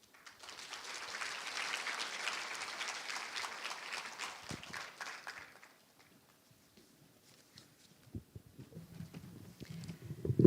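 An audience at the 2024 Asia-Pacific food regulatory heads meeting applauds the director as she comes to the stage. The clapping is steady for about five seconds, then dies away into near quiet before a voice starts speaking.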